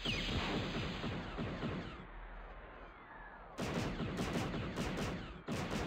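Video game Shadows of the Empire gunfire: dense, loud volleys of blaster-like shots and bursts, a brief lull midway, then heavy firing returns in rapid clusters.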